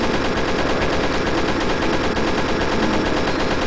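Loud, unbroken stream of weapon fire in the Pirate Doom total conversion for Doom, shots running together evenly into a dense, harsh roar with no pauses and no talk.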